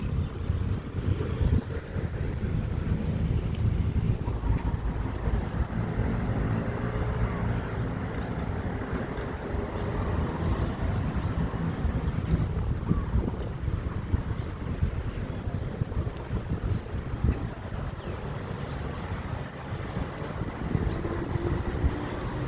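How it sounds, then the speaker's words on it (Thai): A strong evening wind buffets the microphone in a constant, loud rumbling roar that carries on without a break. "ลมก็แรงครับ"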